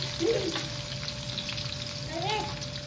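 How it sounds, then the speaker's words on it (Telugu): Onions sizzle and crackle in hot oil, a steady close frying hiss with faint voices briefly audible in the background. "అందులో చిటపటలు ఆడేటప్పుడు ఆనియన్ వేసుకుంటున్నా"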